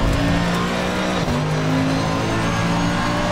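Race car engine in Assetto Corsa Competizione accelerating hard out of the Suzuka hairpin, a loud continuous engine roar rising in pitch with a brief gear change dip partway through.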